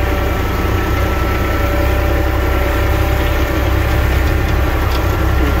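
A four-wheel drive vehicle idling in cold, freshly snowy weather, a loud, steady, close engine rumble with a low throbbing vibration that holds unchanged throughout, with no voices.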